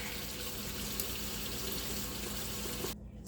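Steady running water pours continuously from a tap into a sink, loud and close, with no voices, then cuts off abruptly near the end.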